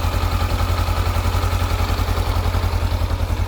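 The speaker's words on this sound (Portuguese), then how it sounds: "É referente à campana da embreagem dessas motos." A Honda 500X motorcycle engine idles with a rattling clutch bell noise, a loud, close, steady low pulsing thrum with fast rhythmic clatter on top, continuous with no talking.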